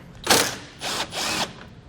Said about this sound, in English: So we'll grab a 10mm socket and pull it out.